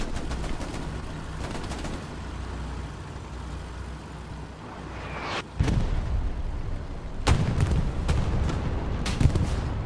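A rocket launched at tanks in the online war shooter Hell Let Loose: a sharp whoosh then a heavy blast around the middle, followed by more loud booms and scattered gunfire over a constant battlefield rumble.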